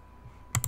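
A computer mouse gives two quick, crisp clicks close together in a quiet room.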